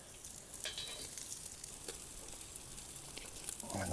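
Small prawns sizzle steadily in butter in a pan at a camp cookout, a close, continuous frying hiss with faint crackles and a slight rise toward the end.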